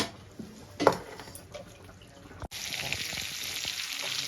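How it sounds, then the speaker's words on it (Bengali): Cut potatoes fry in oil left over from frying rohu fish, a steady close sizzle with a sharp burst near the start and a louder, denser crackle from midway on, with no talk. "এবার আমি মাছ ভাজার তেলেই কেটে রাখা আলুগুলো লাল লাল করে ভেজে নেব"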